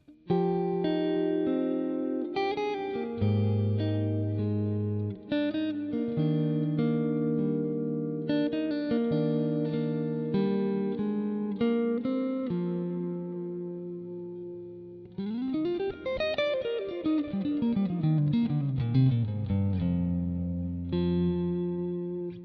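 Clean, warm electric guitar through a Friedman BE50 clean channel captured on a Quad Cortex, with compression, delay and soft reverb tail, playing chords and melodic lines, steady and close, with no voices.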